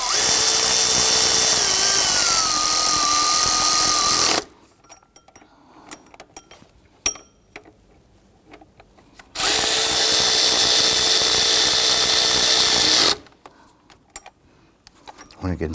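Power tool snugging down alternator bolts on a 2011-2015 Kia Sorento 2.4L four-cylinder, two long loud whirring bursts of about four seconds each, separated by quieter clinks and handling noises.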